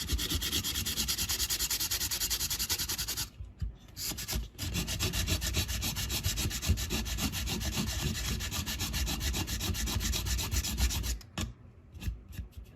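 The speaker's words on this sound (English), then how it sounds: "you can come in again with your sandpaper, wrap that in a file like so, and then just remove those odd spots." Sandpaper wrapped around a file rubs over a 3D printed part for a 1/64 scale KT Pacer feed trailer, making close, loud, continuous rasping strokes with two brief pauses.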